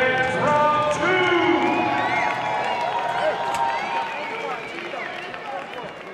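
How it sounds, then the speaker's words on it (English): An arena crowd at a combat sports event cheers for fighter Serhiy Sidey between rounds in a dense, sustained roar of voices and whoops that fades slightly over several seconds, with a commentator's voice running underneath. "Cheers of Serhiy from the crowd."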